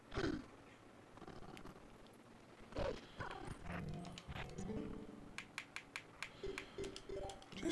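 Horse hooves in the video game Zelda Twilight Princess clip-clop in a quick, irregular run of sharp knocks that grow denser toward the end, with a brief snort, at moderate level and with no talk.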